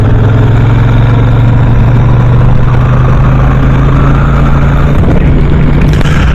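A Royal Enfield Super Meteor 650 motorcycle's engine drones steadily on the road, a loud, low, continuous hum that rises slightly in pitch, heard up close with wind rush over it.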